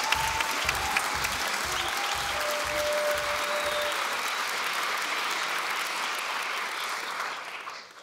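Applause from a student audience at a university theatre evening, a full crowd clapping steadily and fairly loud, fading out at the very end, with a few low rhythmic thumps near the start.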